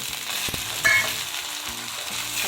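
Kadvanchi gourd sautéed in oil with browned onion and garlic, a continuous close sizzle with a few scraping stir strokes and one brief bright clink, without any speech.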